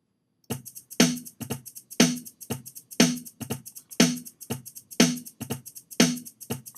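A programmed shaker pattern from a drum machine with shuffle swing applied, playing alone as a steady looping groove of bright, crisp hits, with accented beats alternating with lighter, swung shakes and no talk.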